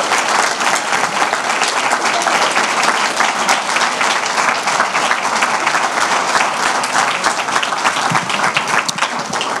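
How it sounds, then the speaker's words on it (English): Dense, sustained applause from a large audience of parents and grandparents at a school induction ceremony, loud and continuous for nearly ten seconds with no pause. "Give them a round of applause."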